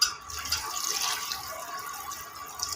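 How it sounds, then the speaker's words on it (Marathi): Two glasses of water poured into a pot of sautéed tomatoes for soup, a faint, steady splashing trickle with no talk. "आता यामध्ये मी घालणार आहे 2 ग्लास पाणी"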